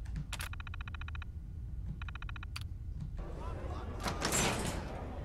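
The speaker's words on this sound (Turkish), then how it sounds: "Kapıyı aç." Door opening in Fallout 4, with mechanical clicks and a whirring buzz in two bursts followed by a louder hissing slide, set against low game ambience.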